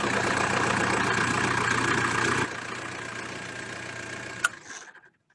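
A tractor engine runs at a steady idle, drops in level partway, then cuts off with a sharp click and falls silent.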